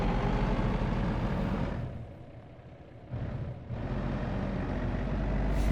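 A heavy truck engine in American Truck Simulator shifts up through a high gear, the steady drone dropping and quieting for a moment mid-shift before building back to a loud, full roar.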